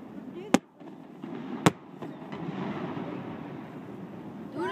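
Fireworks at a Christmas festival in Lake Arthur, Louisiana: two sharp, fairly distant bangs followed by softer crackling and rumble outdoors.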